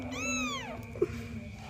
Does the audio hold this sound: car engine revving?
no